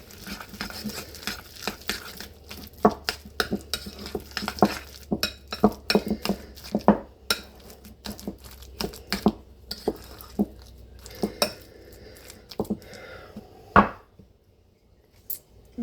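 Ingredients are mixed in a bowl with a utensil, producing irregular clinks, taps and scrapes that thin out toward the end, with no talking.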